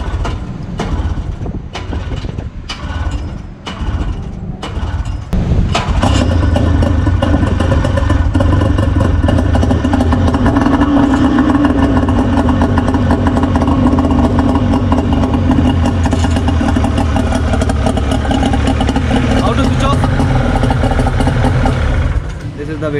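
A rescue boat engine on a davit during a simulated launch clatters through a few knocks, then catches around the midpoint and settles into a loud, steady idle that runs to the end.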